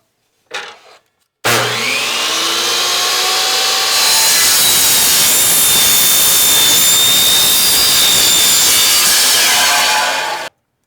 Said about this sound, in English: we will just be cutting these on the chop saw